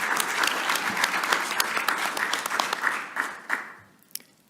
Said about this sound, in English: Let's give Kenny a round of applause there.